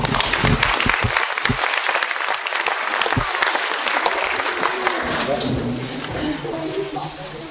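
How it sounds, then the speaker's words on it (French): A large audience at a school musical-comedy show applauds the Modern Jazz dance group, a loud, dense, continuous roar of clapping that holds steady and eases slightly near the end. "nous vous demandons d'applaudir très fort les danseuses et danseurs du groupe Modern Jazz"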